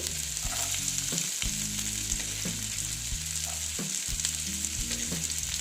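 Chopped carrots fry in a pan with onions for a moong dal snack. A steady, bright sizzle holds throughout, with soft intermittent clicks and scrapes of stirring.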